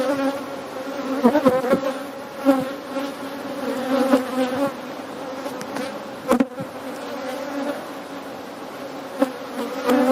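Bees swarm around an open top bar hive with a dense, continuous drone close up, and individual insects buzz louder as they pass near, alongside occasional faint knocks.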